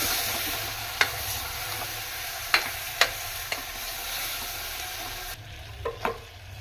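Tomatoes cooking in a pan give a steady, close sizzle and crackle, punctuated by a few sharp clinks and scrapes of stirring, softening slightly near the end.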